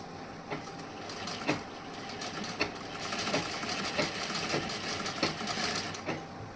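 A sewing machine runs steadily, stitching along the edge of a princess-cut blouse, its motor whirring with a brisk mechanical rhythm and periodic clicks, close and clear with no talking.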